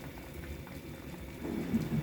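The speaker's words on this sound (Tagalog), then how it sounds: "kumukulo na po siya" Water bubbles and churns at a rolling boil in a pot, with lemon and ginger, a soft, steady gurgle that grows slightly louder toward the end.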